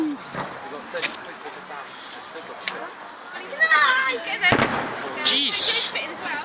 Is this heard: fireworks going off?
yes